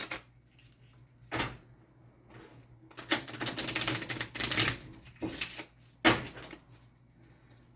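A brand-new, very stiff deck of playing cards is riffle shuffled, giving several crisp bursts of rapid fluttering clicks close by, separated by short pauses, with no voices.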